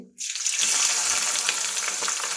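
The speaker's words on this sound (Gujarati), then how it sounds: "મિત્રો આપણે ખડા મસાલામાં લવિંગ, તેજપત્તા, અજમો અને જીરું એડ કરી દીધું છે" Cloves, bay leaf, ajwain and cumin sizzle loudly in hot oil, a steady close crackle and hiss that starts abruptly and holds unbroken to the end.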